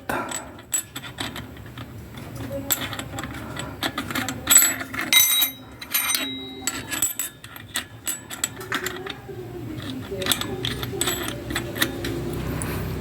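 Metal clicks and small ratcheting taps from a nut being tightened on a scooter clutch and torque drive assembly, a close, irregular series of sharp mechanical ticks over a low background rumble.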